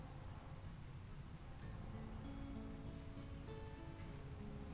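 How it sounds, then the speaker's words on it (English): Steady rain pours down across a burning map in the colony-building game RimWorld, a dense, continuous hiss of falling drops that stays even and fills the whole stretch with no talking. "finally we get some rain"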